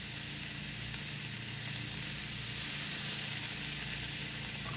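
Tomato purée sizzles and fries in a pan over a gas flame, a steady, close hiss with no voices.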